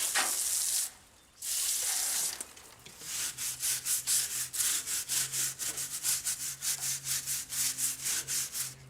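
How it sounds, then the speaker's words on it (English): Brickwork around a window opening being bricked up is scrubbed with a steel brush and a scrubbing brush: close, loud, rhythmic rasping strokes, a few long sweeps first, then a fast steady run of short repeated scrubs. "I just got a little steel brush and a scrubbing brush."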